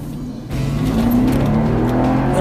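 A 2012 Mercedes E550 with the stock M278 engine revs up loudly from a quieter idle to a sustained roar, close to the car, with no talk.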